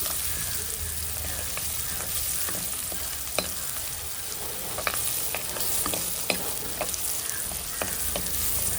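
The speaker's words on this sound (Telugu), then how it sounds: "ముందుగా సన్నగా కట్ చేసి పెట్టుకున్న ఆనియన్స్ ఆనియన్స్ మొత్తం పచ్చివాసన పోయేందుకు గోవర్గా వేయించుకోవాలి" Thinly sliced onions frying in oil in a pan for a fish curry, a steady dense sizzle throughout with occasional sharp scraping clicks from stirring.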